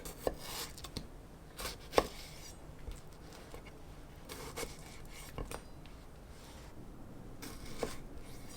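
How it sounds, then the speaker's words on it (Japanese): A knife cuts a tomato into wedges on a cutting board, with soft irregular taps and slicing sounds, quiet and close. "トマトは8等分のくし切りにします。"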